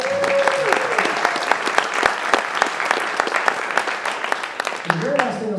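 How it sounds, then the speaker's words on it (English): Audience applause at a game developers' rant and rave night in Toronto, a dense run of clapping from a sizeable crowd that carries on for several seconds before tapering, with faint voices near the end. "Applaud now."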